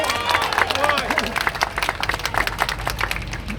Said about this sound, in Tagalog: Palakpak naman daw!